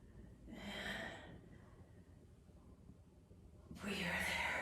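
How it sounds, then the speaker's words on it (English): Heavy breathing during a core hold exercise: two loud, breathy exhalation bursts, close to the listener, separated by a quiet pause. "Keep breathing."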